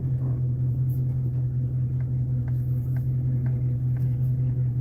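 A Ford Capri's steady, deep engine rumble drones on without a break, low and constant, with faint higher clicks ticking over the top.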